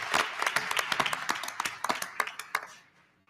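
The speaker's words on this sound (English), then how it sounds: "Let's give them all a round of applause." Scattered audience applause at a school board meeting, a brief patter of many hands clapping that fades out after a few seconds, with some voices mixed in.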